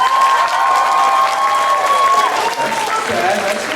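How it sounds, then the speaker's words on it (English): A studio audience at an anime dating game show claps and cheers for a contestant, producing a loud, continuous burst of applause with crowd noise and a few shouts. "Let's go ahead and clap if you like Bachelor number 1."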